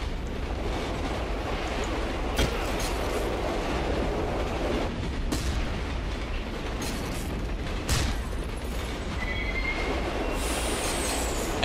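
A subway train ride in the horror video game Condemned, a steady loud rumbling roar of rolling carriages with rail clatter, occasional sharp clanks and a thin high wheel squeal near the end.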